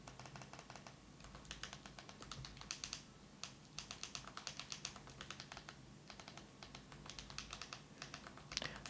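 Steady keyboard typing, clusters of quick light key clicks with short pauses between bursts, close and fairly quiet.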